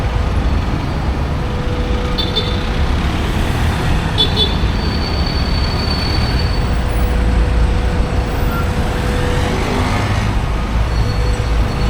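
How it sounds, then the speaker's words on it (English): An air-conditioned city bus moving through busy street traffic in Iloilo, Philippines, a steady roadway roar with engine hum, a few short horn toots and the whine of other vehicles passing close by. "Here's one of the buses that are slowly taking out the jeepneys"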